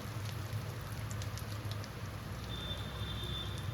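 Three dried red chillies frying in reused foamy oil left from cooking prawns, a steady close sizzle and crackle filling the pan throughout with no voices.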